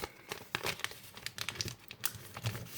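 Paper being folded into an origami crane, with close crinkling and rustling in short bursts and sharp creases, alone.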